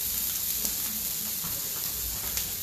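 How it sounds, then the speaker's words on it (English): Vegetables for a barbecue shakshuka sizzle on a grill or in a pan, a soft, steady hiss with a faint crackle and no voices. "the best thing to do is go ahead and grill these a little bit"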